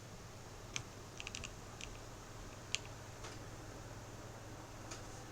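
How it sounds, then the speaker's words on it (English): Sparse, faint keystrokes click on a computer keyboard, a few isolated taps and one short quick cluster over a low steady hum, with no voices. "Or just stop typing."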